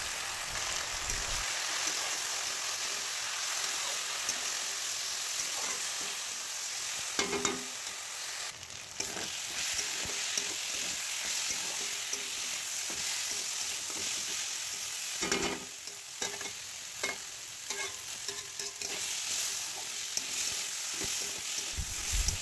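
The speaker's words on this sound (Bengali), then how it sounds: "ডালটাকে একটু নেড়ে চেড়ে ভালো করে ভেজে নিয়ে" Moong dal frying and being stirred in a pan for a vegetarian thor dish with potato, a steady close sizzle broken by scraping stir strokes throughout.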